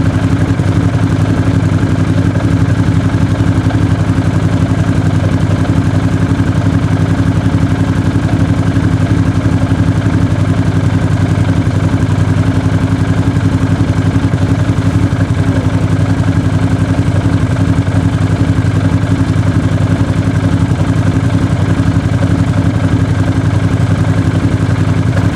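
A machine's engine warming up and idling, with a steady, loud, close mechanical rumble that holds an even low throb for the whole stretch and carries no speech.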